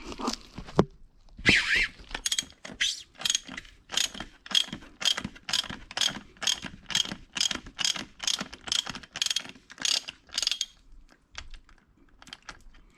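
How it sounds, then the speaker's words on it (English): A 1/2-inch drive ratchet loosens the oil filter housing on a Mercedes ML350 BlueTEC's OM642 diesel engine, clicking in a fast, even series of close, crisp ticks that run for several seconds, then stop. "So what I'm going to do for this one is just loosen off the filter for now."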